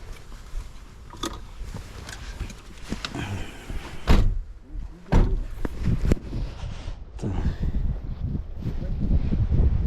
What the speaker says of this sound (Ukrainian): Різко затопую, двері закриваю